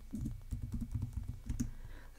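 Quiet clicking keystrokes on a computer keyboard while entering data in an Excel spreadsheet, a quick irregular run of taps heard close and alone.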